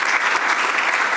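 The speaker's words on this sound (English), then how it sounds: "I would say another round of applause for me." A brief, dense burst of audience applause at a live televised business event, steady and fairly loud throughout its short length.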